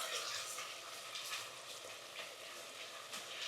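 A spiced bitter gourd filling fries in a pan with a soft, steady sizzle and crackle, quiet and close, with faint scraping as it is stirred.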